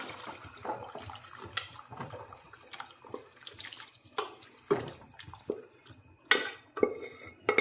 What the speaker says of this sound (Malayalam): അതിലേക്ക് നമ്മൾ വേവിച്ച് വെച്ച ബീഫ് ഇതിലേക്ക് ഒഴിച്ച് കൊടുക്കുക